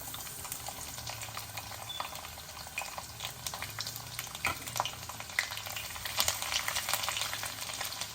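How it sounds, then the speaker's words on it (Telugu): Crushed garlic frying in a pan for a greens-and-lentil-powder dish, a steady close crackling sizzle with bright spattering pops running throughout, no voices. "ఎర్రగా అయిపోయాయి మన వెల్లుల్లిపాయలు మనం క్రష్ చేసుకున్నాం కదా వేస్తున్నాం"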